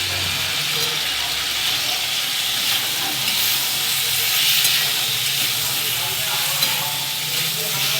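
Drumstick stems with spices, salt, turmeric, coriander and cumin powder sizzle steadily in a frying pan for a mustard-poppy seed curry, a continuous close hiss with faint stirring scrapes.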